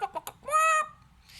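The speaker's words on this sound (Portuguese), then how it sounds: "A galinha faz" A chicken makes a few quick clucks followed by a short, higher drawn-out squawk, close and fairly loud against a quiet background.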